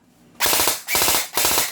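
An HK416 Geissele airsoft rifle fires rapid bursts, three loud, close rattling strings of quick shots separated by short pauses.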